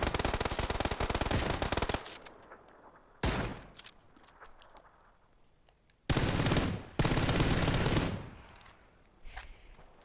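Video game machine gun fire in PUBG comes in several loud sustained bursts separated by quieter gaps, with short single shots in between, close and harsh.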